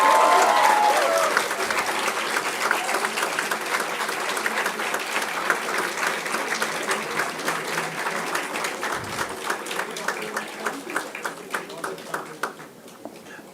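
Steady audience applause fills a hall at a business school convocation as a staff award is presented. The dense clapping is sustained and even, with a brief tone at the start, and it fades gradually toward the end.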